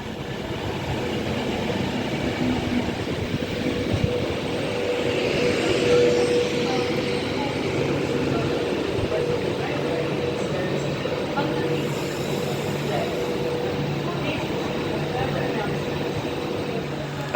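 An Avanti Pendolino named City of Liverpool runs on the West Coast Main Line at Rugby station, a steady mid-level rolling rumble and hum with a brief tonal whine, while a person talks over it.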